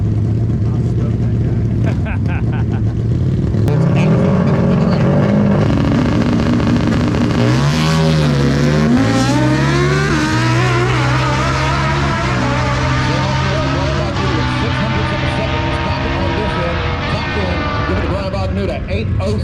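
Drag racing cars at a drag strip accelerate hard, engine pitch sweeping up through rising gear changes, loud and continuous throughout, with people talking over the roar.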